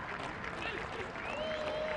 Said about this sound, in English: cheering constantly